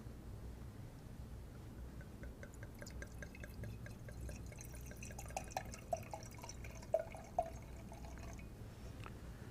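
Wine poured from a freshly opened bottle into a guest's glass, a faint, steady liquid trickle with a few small drip-like splashes near the end, quiet and close, with no talking.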